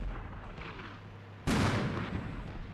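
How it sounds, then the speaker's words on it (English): Artillery fire in the video game Armored Brigade 2: a low rumbling lull gives way to a sudden loud blast that rolls on as a heavy roar, with a sharp crack at the very end. "Artillery coming in."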